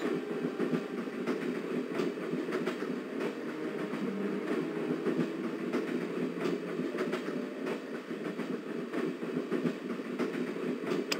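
A train rolls steadily onward in the Broken Sword video game, a continuous rumbling carriage ride with clickety-clack wheel rhythm and faint rattles, heard from inside at moderate level with no talking.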